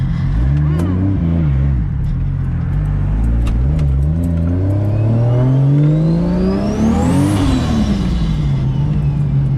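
A car engine left unused for eight months runs loudly up close, with several rising revs followed by a long sweep climbing to a peak and then falling back to a steady idle.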